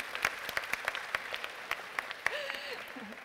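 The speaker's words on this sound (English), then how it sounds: "We'll all clap, won't we?" Small audience at a young innovators event clapping in scattered, uneven claps at moderate distance, with a light cheer and a voice rising near the end.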